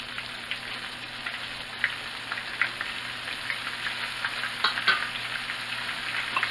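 Chicken livers fry in a hot pan with a steady, close sizzle broken by scattered crackles and small pops throughout, with no voices.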